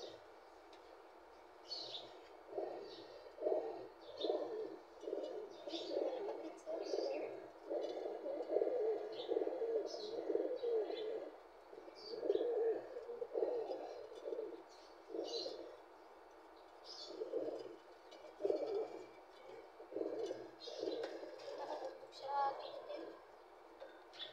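Male pigeons cooing in a loft, with repeated low throaty coos arriving in steady rhythmic bursts throughout, fairly close, over a quiet background.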